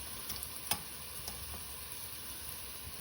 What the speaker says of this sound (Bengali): রসুনটা দিয়ে কিছুক্ষণ বাইজা নিছি এখন একটু একটু হলুদ মরিচের গুঁড়া এসব এসব দিয়ে দিই